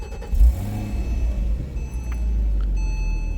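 A 2011 Porsche Boxster with about 100,000 miles starts up: a brief crank catches into a rising rev, then settles to a steady close engine rumble under a faint electronic chime.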